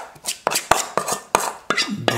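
Bread dough is scraped and moved from a bowl into a greased baking pan, giving a string of sharp clinks, knocks and scrapes of utensils against metal and dishes at close range, with no talking.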